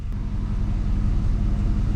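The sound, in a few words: GM truck engine running after start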